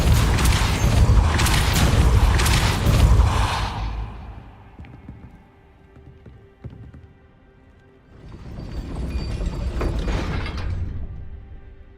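Depulso spell cast in the video game Hogwarts Legacy, set in hidden Hogwarts dungeons: a loud whooshing magical burst with a mechanical rumble, then a quieter lull with faint clicks before a second rushing swell.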